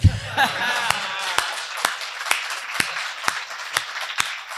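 Audience at a Hindi comedy poetry reading (kavi sammelan) bursts into loud applause after a cheering shout, then settles into a steady, sparse rhythm of single sharp claps repeating about every half second.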